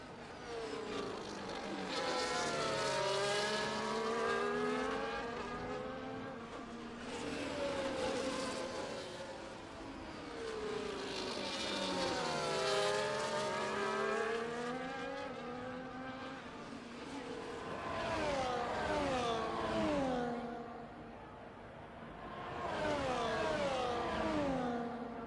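Race cars lapping in a sim racing video game at the Brazil round of a league race, engines rising and falling through gear changes as several cars pass in waves, loud and continuous throughout.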